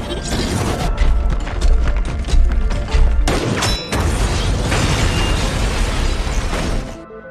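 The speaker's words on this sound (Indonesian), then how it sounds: "Will yang melihat tabung gas di sana, ia pun langsung meledakkan tabung itu berharap monster itu bisa mati." Gas cylinder exploding in a film scene while a monster is attacked: a loud, dense, rumbling blast with crashing debris and booming bursts runs for several seconds before fading out at the end.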